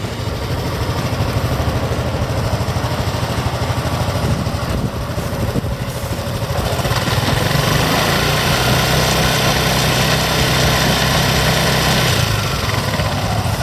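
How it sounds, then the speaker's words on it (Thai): A Honda Forza 300 scooter engine idles steadily nearby, a constant buzzing hum that thickens slightly partway through, with no talking. "เดี๋ยวลองฟังเสียงเครื่องยนต์กันเลยครับ"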